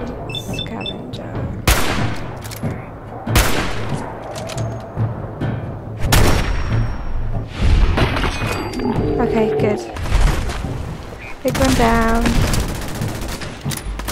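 Cannon fire from a flying pirate ship in Fallout 4, with repeated heavy booming blasts spaced a second or two apart amid loud roaring game noise, with a voice talking over it.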